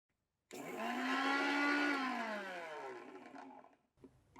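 Mixer grinder coarsely grinding roasted alisi (flax) seeds and sesame, a loud continuous motor whir that starts abruptly, holds steady for about three seconds, then falls in pitch as it winds down and stops.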